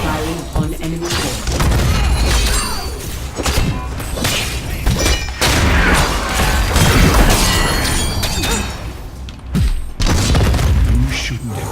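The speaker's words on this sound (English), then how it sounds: "Halo firing on enemy" A Halo ability fires on an enemy during a Heroes of the Storm match, giving loud, crashing impacts and booms that repeat through dense in-game combat noise and music.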